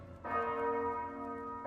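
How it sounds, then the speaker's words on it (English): A church bell in a Game of Thrones episode strikes once and its deep, resonant tone hangs and slowly fades, loud and clear with no other sounds. "Bells have been rung."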